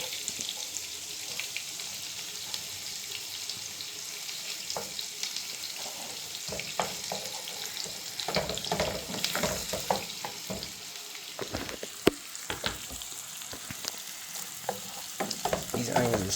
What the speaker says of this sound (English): we're going to cook our onions in the butter for a while just to soften them up